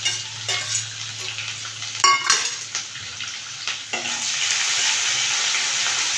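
Garlic, ginger and green chillies sauté in an oiled pan with a steady hiss and sizzle, broken by scraping stirs of a utensil against the metal, the frying growing louder and more constant toward the end.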